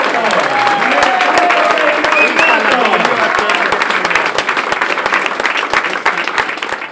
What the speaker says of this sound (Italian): Siamo pronti al taglio, di solito c'è un grande applauso.